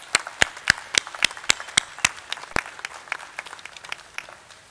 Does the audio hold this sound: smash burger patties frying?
no